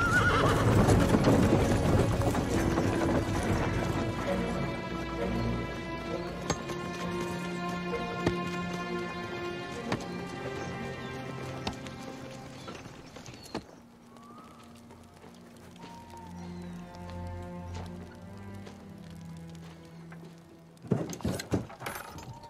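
A horse whinnies loudly and at length while hooves clip-clop steadily nearby; the sound then drops to a quieter stretch, and a sharp clatter of movement comes near the end.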